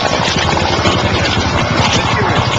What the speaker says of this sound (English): You hear a helicopter off in the distance there.